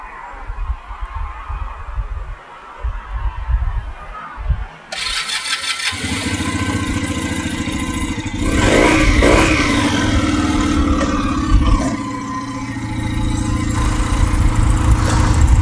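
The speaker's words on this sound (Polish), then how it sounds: "Mamy otwarty układ wydechowy, a co za tym idzie, mamy troszeczkę inny dźwięk, bardziej basowy, bardziej czoperowaty" A Junak M11 motorcycle with an open, tuned exhaust starts up and revs hard, its deep, chopper-like bass note roaring loudly at close range with rising throttle blips after a quiet idle-like start.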